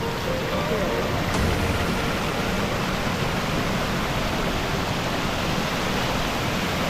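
Mae Sanan waterfall in Thailand roars as a steady, loud broadband rush of falling water, continuous and close for the whole stretch with no break.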